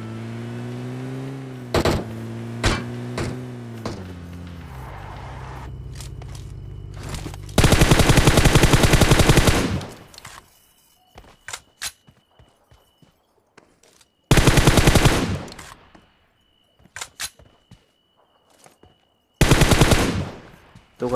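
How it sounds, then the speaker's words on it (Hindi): Bursts of automatic gunfire from an enemy bot in a shooter video game, three loud sustained volleys of a couple of seconds each, separated by quieter game sounds and short pops, after an opening stretch of engine-like drone. "पीछे से एक बोट फायरिंग आती है"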